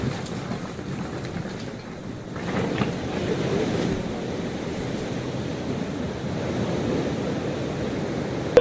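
Heavy monsoon flow at the Kosi Barrage: a steady, loud, broadband rush of fast-moving river water during heavy rain, continuous for the whole stretch with no voices.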